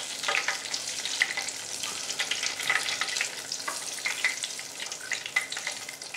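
Steady crackling sizzle of stuffed chilli peppers shallow frying in oil, dense popping and spitting throughout, close and continuous with no voices.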